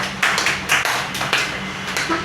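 A few single hand claps ring out slowly and evenly in a lecture setting, each clap separate and fairly loud over a low background hum.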